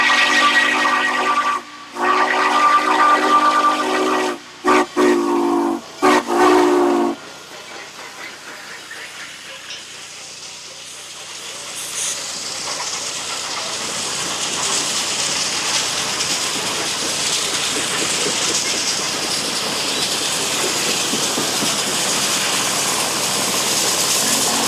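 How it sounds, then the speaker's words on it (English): Norfolk and Western 1218 steam locomotive rolling downhill sounds a long, loud steam whistle with short breaks, then a steady hiss and rumble of steam and running gear that slowly builds. "Rolling down Christiansburg Mountain, both locomotives ease toward Radford"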